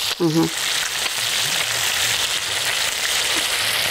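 Tandoori chicken wings shallow frying in oil over low heat give a steady, even sizzle and crackle throughout, with a brief voice-like tone near the start.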